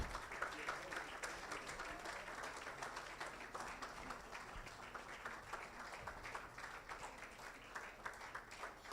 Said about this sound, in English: You had better clap.